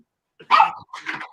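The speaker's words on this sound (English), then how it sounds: "my dog, of course, knocking at the door" A dog at a door gives two short, loud barks close by, separated by a brief pause, with no one speaking.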